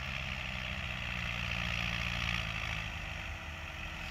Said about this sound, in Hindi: सारे ट्रैक्टर वाले ड्राइवर अपना अपना जोर अजमा रहे हैं अपने अपने ट्रैक्टर का